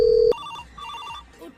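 A telephone rings with a short loud bell-like tone that cuts off abruptly, followed by quieter electronic beeps and faint background sound.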